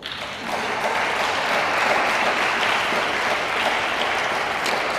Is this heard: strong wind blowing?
no